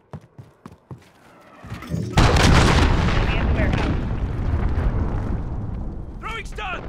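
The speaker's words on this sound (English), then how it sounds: "cruise missile away" Explosions from a cruise missile strike in Call of Duty Modern Warfare multiplayer: a few sharp thuds, then a heavy boom that swells into a long, loud rumbling roar with debris sounds trailing off.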